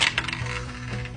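Dice tumbling and clattering across a table in a tabletop roll-for-meat cooking game, a quick burst of hard clicks that settles into a low rattle, close and alone.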